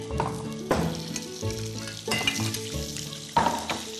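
Vegetables fry in a hot pan with olive oil, salt and black pepper, giving a steady close sizzle with several louder bursts as pieces are stirred or shifted, and no talking.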